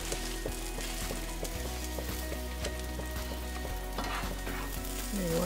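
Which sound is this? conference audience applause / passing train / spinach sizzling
spinach sizzling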